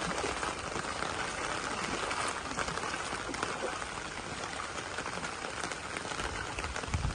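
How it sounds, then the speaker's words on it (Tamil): Steady rain falls in a flood-hit village in Jaffna, a constant soft hiss of drops on surfaces, even and unbroken throughout, heard at a fairly low level. "இன்னும் மழையப்பா"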